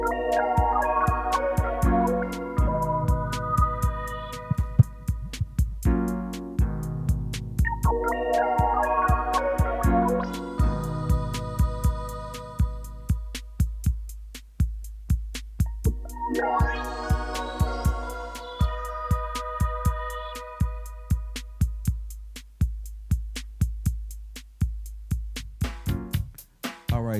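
A Roland MC-303 groovebox plays a continuous electronic beat with steady drum hits and layered synth tones that change partway through, loud and alone with no talk.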